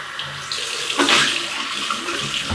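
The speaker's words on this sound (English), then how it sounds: "All right, cold water rinse" Cold water gushes steadily from a tap into a sink for rinsing a razor, a continuous close splashing hiss with no talk.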